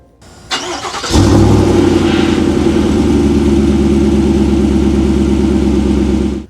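A 2025 Chevrolet Suburban RST's 6.2-liter engine with sporty exhaust cranks briefly and fires up into a loud, deep, rumbling idle with a throaty exhaust note that holds steady for several seconds.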